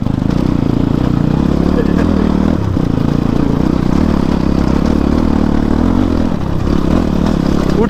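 A motorcycle rides a rough offroad dirt track on the way to Topthumki in Morang, its engine a loud, steady mid-pitched drone, with dips around the third and sixth seconds and rattling clatter from the bumpy ground.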